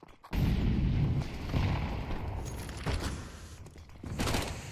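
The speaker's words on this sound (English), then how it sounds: "big nade coming in, taking Face Fear down to 59 and Keith down" A grenade explodes in Counter-Strike 2 during a live esports tournament match: a sudden loud boom, then a sustained rumbling roar that slowly fades, with no talk over it.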